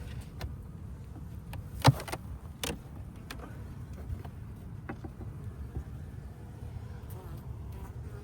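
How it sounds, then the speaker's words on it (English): Bees around an opened beehive buzz in a low steady drone, with occasional clicks and knocks of hive equipment being handled nearby and no speech. "There's a few bees up here."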